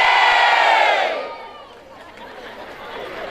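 A large audience at a Ram Katha gathering roars a victory chant in praise of Lord Ramchandra, loud collective shouting that swells and fades, then settles into crowd murmur and scattered voices.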